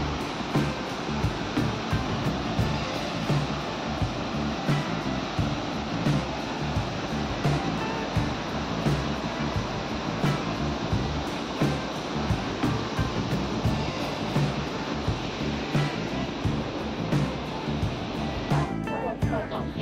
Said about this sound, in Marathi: भरपूर असा मोठा वॉटरफॉल आहे.